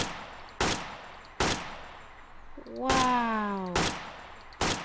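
AK-47 gunfire at a shooting range in Garry's Mod, five loud sharp single shots spaced about a second apart, with a brief spoken exclamation layered over the middle shots.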